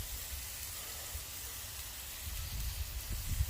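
Steak and scrambled eggs cooking in a cast iron pan on a kettle grill outdoors in cold weather, giving a steady close broadband sizzle that grows slightly louder toward the end, with no talking.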